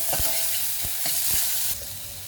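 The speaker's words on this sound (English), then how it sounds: "After cracking up of mustard seeds, I'm going to add some onions. And saute it well now." Onions sizzling and being stirred in a hot pan after mustard seeds have crackled, a loud bright frying hiss with several sharp spoon scrapes against the pan, no voices.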